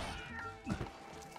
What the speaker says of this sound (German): Sind das diese Katzen, die man auch aus den vorherigen Teilen kennt?